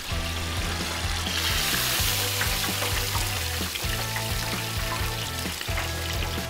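Catfish deep-frying in hot oil, a loud, dense, continuous close-up sizzle and bubbling that never lets up, with no talking over it.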